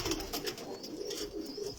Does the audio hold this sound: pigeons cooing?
yes